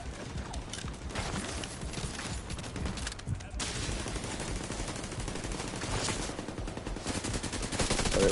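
Gunfire from a deployed turret shredding enemies at a checkpoint in The Division 2 on PS5, a dense run of rapid shots that carries on steadily and swells toward the end.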